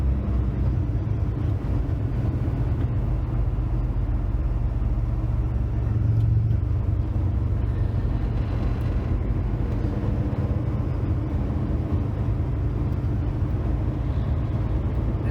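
Steady road traffic rumble heard from inside a truck cab driving on I-25 in Denver, a continuous loud low drone of engine and tire noise with no talk.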